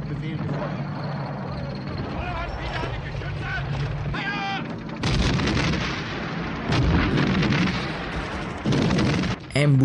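A salvo of artillery fire booms out in several heavy blasts, loud and rumbling, with a voice narrating over the battle noise.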